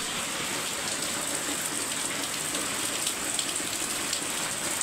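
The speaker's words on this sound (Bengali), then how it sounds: "সেই ঘন্টা দুয়েক আগে থেকে বৃষ্টি হচ্ছে, বৃষ্টি থামার নামগন্ধ কিছুই নেই" Heavy rain pours down in a steady, dense hiss with no letup, during a long evening downpour that has flooded the streets; no one speaks.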